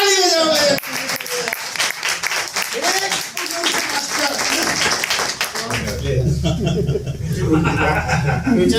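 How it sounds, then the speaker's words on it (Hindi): Students in a Hindi-language classroom on forex and crypto trading break into a burst of clapping near the end, after a stretch of someone talking over the room. "अरे ताली बजाओ भाई"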